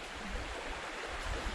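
A small creek flows steadily at a campsite, a continuous soft rushing and burbling of water heard nearby with no voices.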